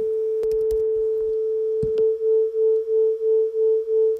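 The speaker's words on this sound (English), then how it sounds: "Listen as I play two notes that are different." Two nearly matched sustained electronic tones sound together, producing a steady rhythmic wobble as their pitches beat against each other, swelling and fading about twice per second after a few brief clicks.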